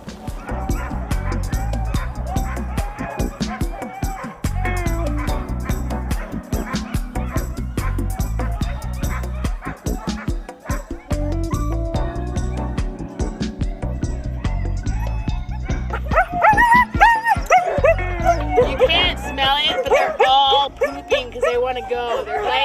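Many sled dogs bark and yip excitedly in a dense, continuous chorus before a run, with voices talking over the noise.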